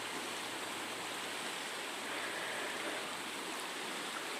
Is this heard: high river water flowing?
yes